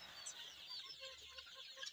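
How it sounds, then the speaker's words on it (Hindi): Fancy chickens in a poultry setup cluck faintly and steadily over a constant background hiss, with no voices. "ये फैंसी मुर्गी है"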